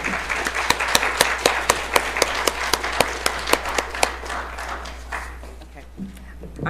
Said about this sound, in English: So please give the 3 panelists a round of applause